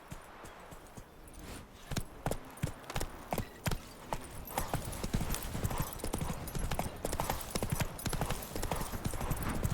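Horse hooves clop in a fast galloping rhythm in The Witcher video game, loud and close, building in intensity over the clip with faint background game sound.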